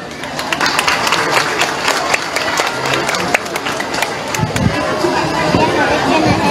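A crowd at a school civic ceremony in Cabañas, Copán, Honduras claps steadily for children, with scattered louder claps, while voices chatter and speak over the applause.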